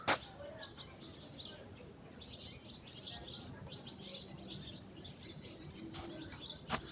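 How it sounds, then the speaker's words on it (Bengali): A small bird in a village in rural Bengal gives repeated high chirps, faint and somewhat distant, over quiet outdoor ambience with a few louder knocks. "সিঙে পাখি"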